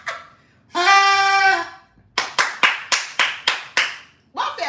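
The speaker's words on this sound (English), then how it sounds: "Let's clap for that." A lone person claps in a room, a quick run of about nine sharp, evenly spaced claps, close and loud, following a long sustained vocal sound.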